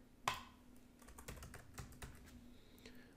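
Typing on a computer keyboard in a quiet room, a faint run of quick key clicks after one sharper initial tap.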